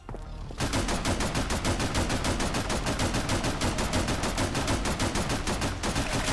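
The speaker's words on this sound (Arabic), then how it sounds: "اوه رشاش" Sustained rapid machine gun fire in the video game CyberPunk Shooting. A steady, dense stream of shots runs loud and continuous for about six seconds after a brief quiet start.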